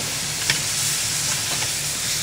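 Wine flambéing in a frying pan, a steady loud sizzle and hiss of frying with faint crackles and pops close by, no talking.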